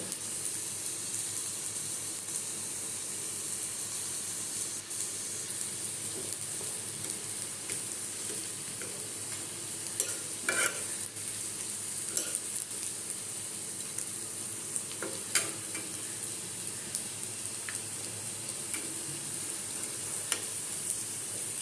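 Potatoes cook in a pan over low heat for an aloo pakora recipe, giving a constant soft frying hiss with scattered small pops and crackles throughout.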